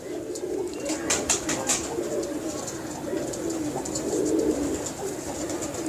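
Pigeons coo in low, throaty murmurs, several birds close by, with scattered wing flutters and sharp clicks over the soft cooing.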